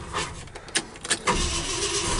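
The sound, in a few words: 1972 Ford F100 pickup truck starting for a drive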